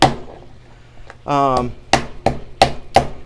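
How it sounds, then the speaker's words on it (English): Pork tenderloin pounded thin with a meat mallet for frying, a run of four sharp, evenly spaced thuds close by, preceded by a brief voiced sound. "to pound it out to about 1/4 of an inch or so."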